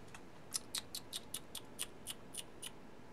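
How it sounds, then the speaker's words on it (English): Light, evenly spaced clicks of typing on a computer keyboard, about a dozen crisp taps in a quiet room, fairly faint and with no talking. "I guess I could just type in Nausicaä and go to the Wikipedia"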